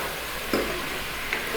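Chopped tomatoes land in a pan of onions frying over medium heat, giving a brief louder burst of sizzle at about half a second. A steady hiss continues, with a small flare near the end and no talking.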